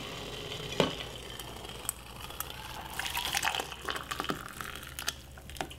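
Homemade ginger tea pours steadily into a cup, soft and close, with a few small clinks along the way.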